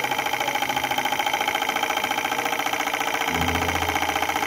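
A small Stirling hot air engine on a metal base runs steadily with a fast, even mechanical chatter and hum, its low tone shifting slightly near the end; no voices.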